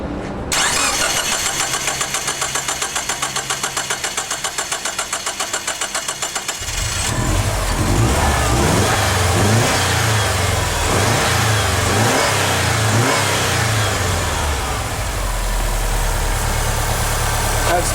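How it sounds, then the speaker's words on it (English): A Subaru engine cranks rhythmically for several seconds before catching, then settles into a loud, close running note with a series of revs. An upper engine cleaner is sprayed into the intake while it runs. "I'm going to start the engine and I'm going to spray the rest of this in"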